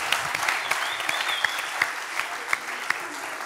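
Strong applause from a studio audience on a Tunisian family game show, steady dense clapping with a few sharper individual claps standing out, sustained and moderately loud throughout.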